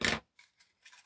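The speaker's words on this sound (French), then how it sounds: "je vais juste recouper un petit peu en biseau pour pouvoir fermer ma boîte" Scissors trim the edge of a small cardboard box at an angle, starting with one louder, rasping cut, then followed by a few fainter, brief snips close by.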